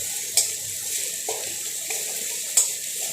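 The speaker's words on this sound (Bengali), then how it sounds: "আমি এইভাবে একটু খুন্তির সাহায্যে জোরে পেস্ট করে নেব।" A metal spatula scrapes and presses spice paste in a hot pan for a chicken chana masala curry, giving a few scattered scraping knocks over a constant hissing sizzle.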